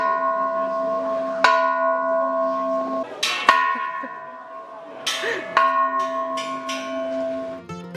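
Temple bells at Doi Suthep in Chiang Mai struck by hand, several clear metallic clangs in quick succession, each leaving long, overlapping ringing tones that hang and fade between strikes.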